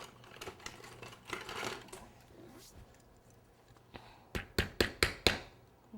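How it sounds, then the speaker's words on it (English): Supports are hammered down through a cake board for a birthday cake, a quick run of about five sharp, fairly faint taps near the end after quieter handling noises. "get my hammer here"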